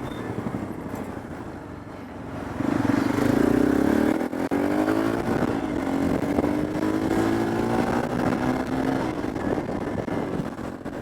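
A motorbike is ridden with the rider standing, its engine droning and rising in pitch as it accelerates, a steady close hum with wind rush and no talk.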